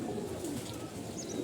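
Pigeons cooing near a loft where pairs are nesting and laying eggs, a continuous low, soft burbling coo from several birds close by, with faint background hiss and no talking.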